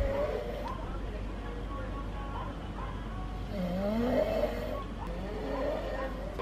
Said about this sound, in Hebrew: אתה נוחר